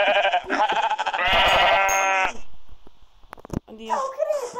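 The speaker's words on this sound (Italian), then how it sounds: "Ok, c'è una pecora." A sheep in Minecraft bleats in a loud, wavering call near the start, amid lively overlapping talk from players.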